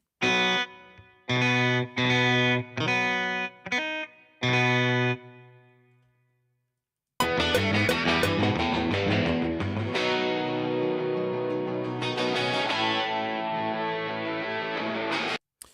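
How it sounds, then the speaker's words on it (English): Distorted virtual-instrument electric guitar strums a few short chords with gaps, falls silent, then settles into a steady, sustained strummed chord with heavy drive. "it sounds like there's some strumming going on right there"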